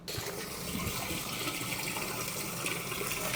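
Water runs through a drain on a site where a cover had been clogged with blue rag, now flowing freely: a steady, broadband rushing gush, close and fairly quiet, with no talking.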